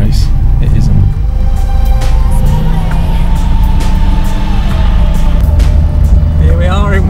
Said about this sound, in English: driving around Dunton test track